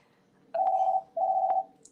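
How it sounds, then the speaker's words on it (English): A phone rings indoors during a live broadcast: two steady electronic ring bursts, each about half a second long with a short gap between them, fairly loud and with no talk over them. "Just in time for my phone to ring."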